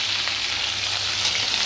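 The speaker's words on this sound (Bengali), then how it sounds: "কারণ এটা এখন একটু ভাজা ভাজা হোক, একটু ভাজা হোক।" Malabar spinach stems sizzle in a pan, being fried for a Bengali hilsa fish-head curry; a steady, close, continuous frying hiss with no voices.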